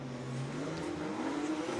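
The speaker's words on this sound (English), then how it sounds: "And Frederick Osbo leaves the line for his sight lap." Nissan Z Formula Drift car leaving the line on a sight lap at a pro drifting event, its engine a steady loud drone rising slowly in pitch as it accelerates, with crowd and track ambience behind.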